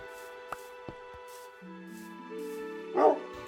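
A dog in Minecraft gives a short whimpering, yipping call near the end, over a quiet game soundscape with a few soft clicks and a low tone; nobody speaks.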